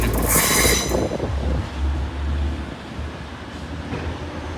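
Passenger train 185143 moving through Sheffield station, with a loud bright squeal of wheels in the first second giving way to a steady low rumble of rolling stock that carries on throughout.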